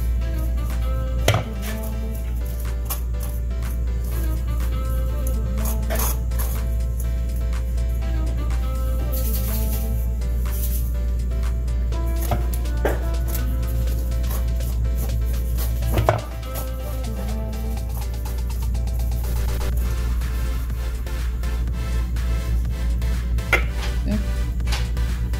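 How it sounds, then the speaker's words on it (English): A fork scrapes the flesh out of baked spaghetti squash in repeated scratchy strokes, close up, against a steady low background hum, with occasional louder knocks and no speech. "You just keep scratching it with the fork."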